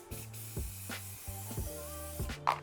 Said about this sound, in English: so I'm gonna spray this with olive oil